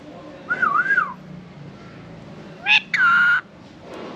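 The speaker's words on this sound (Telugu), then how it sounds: "ఇక్కడ కొన్ని చిలుకలు ఇవి మాట్లాడతారు" Pet parrots give short, clear whistles: a wavering warble, then a quick rising chirp and a longer sustained whistle, fairly close over a quiet background.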